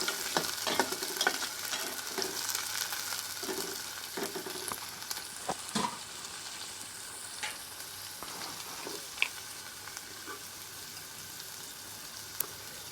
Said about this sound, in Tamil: பெரிய வெங்காயம் பொன்னிறமாக மாறுற வரைக்கும் வதக்கணும்.